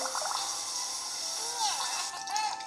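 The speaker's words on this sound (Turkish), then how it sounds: "Şimdi duruluyorum." Water rinsing in a bathtub in a kids' app game, a soft steady splashing wash of water with a few brief bubbly, chirpy tones on top, fairly quiet throughout.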